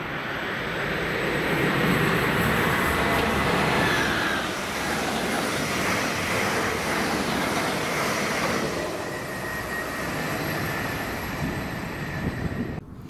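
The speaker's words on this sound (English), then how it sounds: "Royal Mail 325 drag, working 1M44, 1625 Shieldmuir to Warrington with backbone livery 90039 dragging a double set of 325s" Class 90 electric locomotive 90039 in backbone livery drags a double set of Royal Mail class 325 units past, a loud sustained rumble and rolling wheel roar lasting throughout, with faint tonal whines riding on top.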